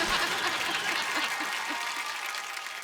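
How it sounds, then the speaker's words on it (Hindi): An audience claps steadily to welcome the chief guest at a stage event, a dense, moderately loud burst of applause that slowly fades. "जोरदार से ताली से आप उनका स्वागत करेंगे"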